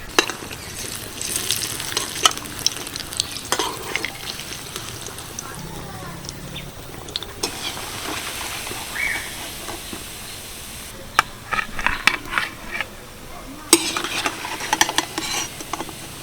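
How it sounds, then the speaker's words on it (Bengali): Onion-coated snacks deep frying in oil, a steady crackling sizzle with bursts of spattering, close and moderately loud, and no talk over it. "এগুলো ভাজতে সময় লাগছে প্রায় ওই মিনিট তিন চারেক মতো"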